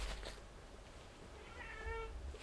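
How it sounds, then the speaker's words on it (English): A cat meows a few times, fairly close and clear, with soft murmuring noise around it and no one talking. "I'm getting animals now. I've got a cat."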